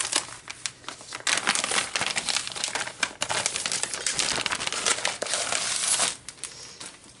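Loud, close crinkling and crumpling of plastic packaging, continuous rustling bursts as a craft kit package is torn and opened.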